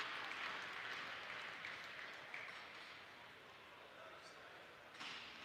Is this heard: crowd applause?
yes